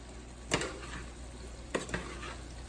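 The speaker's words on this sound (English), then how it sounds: "Stir that up." A spoon stirs canned white beans in a cooking pot for smothered chicken, with two distinct scraping strokes against the pot over a faint steady simmer, close and quiet, without talk.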